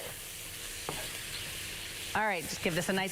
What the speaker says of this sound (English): thick cut bacon takes a little bit longer to cook, so we're gonna just keep that rolling